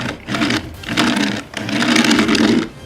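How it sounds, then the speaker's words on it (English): Mechanical chomping of a Power Rangers Dino Supercharge Zord toy as its front wheel is rolled, a whirring plastic gear rattle in three close pulses that rise and fall, loud and near with no talk. "when you move the Zord, it'll activate a chomping feature"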